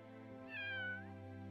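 A cat meows once, a clear rising-falling call over a steady hum of game background music, heard alone with no talking.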